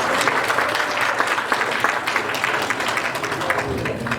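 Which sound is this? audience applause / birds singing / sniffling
audience applause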